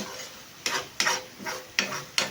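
Sweet dipping sauce cooks in a pan, with a soft steady sizzle broken by about five stirring scrapes that come at a fairly even rhythm, close up with no voices.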